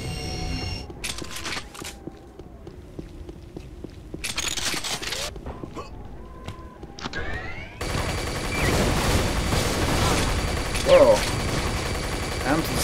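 The Dispersion pistol firing in the video game Unreal: Return to Na Pali, loud synthetic energy shots and bursts in an irregular sequence over mechanical whirring, with a busier, denser stretch of firing toward the end.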